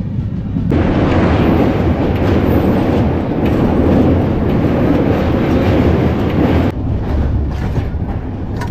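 A passenger train pulls out on the Kolkata to Digha route, with a loud, continuous rumble and rattle of rail cars heard from on board.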